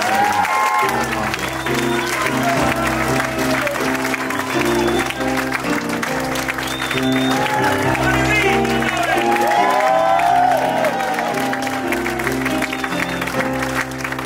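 Sustained audience applause at The Comedy Store comedy club, with scattered cheers, loud and continuous, with music and voices mixed underneath.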